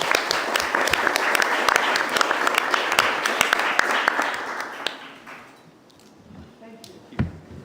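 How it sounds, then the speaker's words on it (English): An audience applauds a conference panel on financing productivity and climate-mitigation transitions, with steady, fairly loud clapping for about five seconds before it fades. Quieter talking follows. "Please join me in a round of applause to this fabulous panel"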